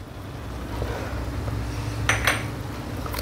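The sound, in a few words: spoon stirring Mexican rice with tomato sauce in a pan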